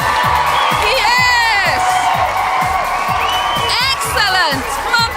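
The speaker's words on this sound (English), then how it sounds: "A big round of applause" A live studio audience of children cheers, whoops and claps for a contestant finishing a wall challenge on a 1998 Saturday-morning TV show, a loud sustained crowd roar with shrill shouts rising over it, while a host calls out above the noise.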